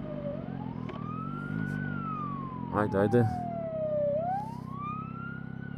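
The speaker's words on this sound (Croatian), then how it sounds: "hitna pomoć, čekaj da je propustimo." An ambulance siren wails past a Yamaha MT-09 Y-AMT motorcycle in city traffic, its slow rising and falling sweep riding over a steady engine drone, with a short burst of speech partway through.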